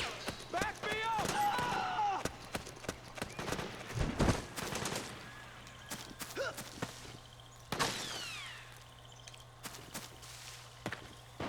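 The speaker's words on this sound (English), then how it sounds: "I'm surprised this guy's not hearing any gunfire" Bursts of suppressed and automatic gunfire crackle through a tense stealth-action firefight in Metal Gear Solid 4 on PS3, with sharp scattered shots, brief rattling volleys and a heavy thud around the middle, mixed with shouted voices and footsteps.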